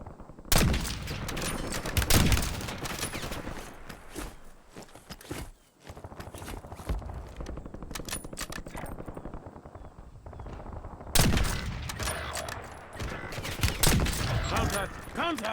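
Dense bursts of video game gunfire, fusillades and rapid machine-gun volleys that come in heavy clusters at the start and near the end, with quieter shots and footsteps between them and some voices mixed in.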